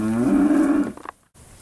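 At a cattle auction selling steers and heifers, one bovine gives a single loud, close moo lasting nearly a second, then trails off into brief quiet.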